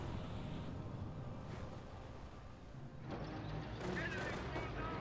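MG42 machine gun fire in the video game Company of Heroes, bursts of gunfire mixed with battle noise and a rumbling vehicle, with a commentator talking over it.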